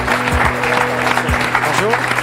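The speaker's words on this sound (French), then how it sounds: "Je vous demande d'applaudir très fort Jean-Max." Studio audience applause on a French television talk show as a guest, a security guard and dog handler, is called on stage, a steady broad wash of clapping throughout with background music tones.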